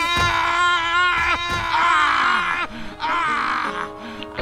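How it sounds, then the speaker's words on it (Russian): Enemies scream and wail in the fantasy role-playing game Neverwinter Nights, several loud, strained, overlapping voiced cries rising and falling over a few seconds amid combat. "Капец, они орут."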